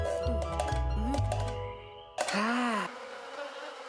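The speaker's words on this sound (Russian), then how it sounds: "меня мухи жрут" Buzzing flies in the adventure game Lost In Play, a tonal insect drone that wavers up and down in pitch, joined by clicky game effects and a louder, swooping buzz near the middle, with no talking.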